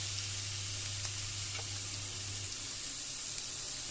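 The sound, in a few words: finely chopped ginger and carrot sizzling in pan for ragi upma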